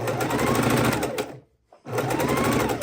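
A sewing machine stitches quilt precuts in a fast, even mechanical whir that cuts out for a brief pause and then resumes at the same steady pace, close and clear.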